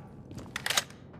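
Weapon magazine reload in the Rainbow Six Mobile shooter game, a short run of quick mechanical clicks and clacks lasting about a second, moderately close and fairly faint, with no talk over it.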